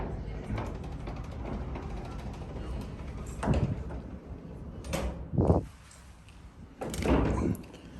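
Montgomery A-Series hydraulic freight elevator doors closing at the George R. Brown Convention Center: a few loud mechanical clunks and scraping surges over a steady machinery hum, with a heavy thud and a final grinding slide near the end.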